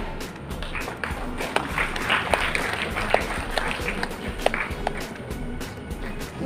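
An audience at a hair and beauty association event in Mangalore claps loudly, dense steady applause with sharp individual claps standing out, sustained and near throughout.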